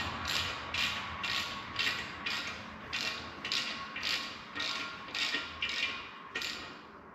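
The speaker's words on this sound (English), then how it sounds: "Now this is 17mm, goes in the back of the block. Just screw it in." Steady ratchet wrench clicking in regular strokes, about ten bursts of rapid pawl ticks, close and clear, as a 17mm plug is screwed into the back of a 2013-2014 Ford F-150 3.5 EcoBoost engine block. No talking.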